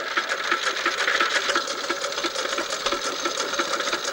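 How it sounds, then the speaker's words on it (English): A vintage petrol-paraffin stationary engine, started on petrol and switched to paraffin oil, runs steadily at a show, giving a continuous fast mechanical clatter with a dense, even rhythm and no speech. "It is a petrol paraffin engine, started up on petrol and switched over to paraffin oil"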